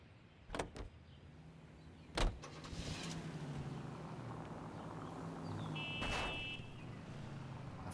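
Car sounds in the video game L.A. Noire: sharp door thumps near the start and around two seconds, then a steady low engine hum running throughout, with a brief higher whir late on.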